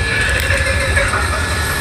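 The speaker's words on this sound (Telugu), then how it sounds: "సో 6:15కి బయలుదేరిన ట్రైన్ 9:40 కల్లా గుంటూరు చేరింది" A Vande Bharat Express train arriving at Guntur station, heard as a loud, steady low rumble of the moving train that lasts the whole short stretch.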